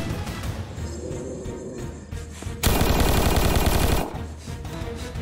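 A shotgun blast in the Roblox game Apocalypse Rising 2 rings out loud and close, a sudden burst over steady background gunfire and game noise that holds for over a second before dropping back.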